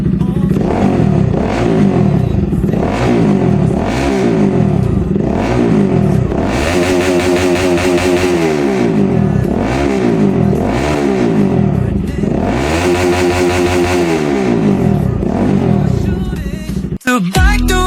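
Bajaj Pulsar RS200 motorcycle engine after an ECU remap, revving hard again and again in a loud close series of rising and falling throttle blips over a steady idle, ending with a sharp cutoff.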